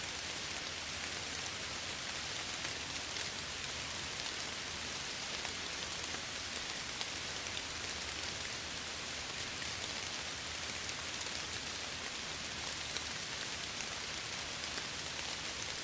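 Steady, even rain falls without a break, a dense hiss of drops on surfaces with no voices or other sounds.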